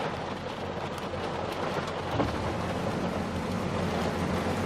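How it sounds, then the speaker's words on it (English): Rain pours steadily outside near a racetrack's showers in Charleston, a dense even hiss with a faint low rumble underneath, no voices. "Just raining out there."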